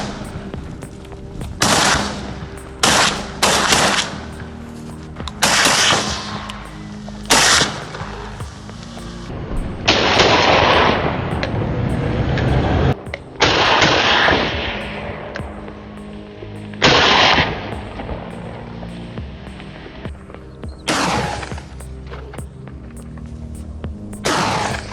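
Video game gunfire at a herd of giant wild boars in farm fields, repeated loud bursts of shots and rapid volleys coming in clusters across the whole stretch, no voices.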